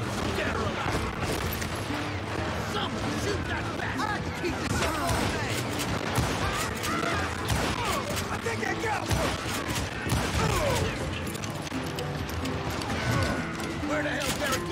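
Dense, continuous gunfire in Call of Juarez: Gunslinger crackles throughout, rapid shots and bursts layered with mechanical clatter, while a voice talks over the action.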